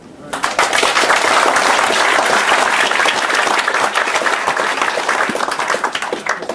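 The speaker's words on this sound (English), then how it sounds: "thank you to Caroline Ashley, and I think a round of applause" A loud, dense round of applause fills the room at a business and development discussion event, starting abruptly and holding steady before thinning toward the end.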